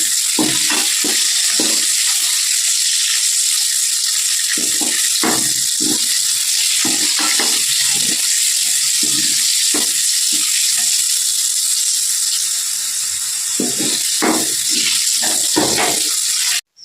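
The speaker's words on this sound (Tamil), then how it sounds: "அந்த பூண்டையும் அது கூடவே போட்டுக்கிறேன். கொஞ்சம் நேரம் நல்லா வதக்கிக்கணும்." Garlic sautés in a pan for tomato pickle, a loud, steady sizzle running throughout with soft, irregular stirring taps scattered over it.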